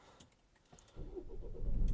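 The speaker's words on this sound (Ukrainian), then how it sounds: "Давайте запустимо двигун." Renault Koleos 2.0 dCi diesel engine cranking and catching about a second in, then settling into a steady, building idle close by, after a few faint clicks and a quiet lead-in.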